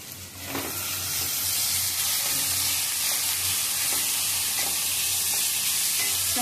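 Chopped onion frying with salt in a pan, a steady close sizzle and hiss with occasional stirring scrapes, continuous throughout and no talking.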